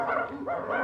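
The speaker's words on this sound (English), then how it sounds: "Sounds like Arbuckle's caught a lot of dogs." Cartoon dogs caught in a kennel bark and yelp together in a short, close, loud burst of overlapping canine cries.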